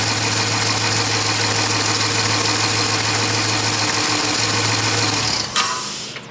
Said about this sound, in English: So we still have a dead miss on cylinder 5 as suspected.